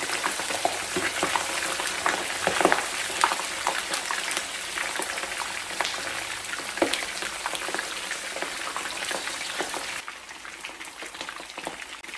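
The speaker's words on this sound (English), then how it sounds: "while our fish is frying" Fish fries in hot oil with a dense, steady crackling sizzle, close and constant, easing slightly softer near the end.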